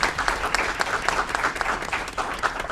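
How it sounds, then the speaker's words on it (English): A room full of people applauds young city appointees at a city council meeting, with dense, steady clapping that stays fairly loud throughout and no voices over it. "Let's give our young people a round of applause."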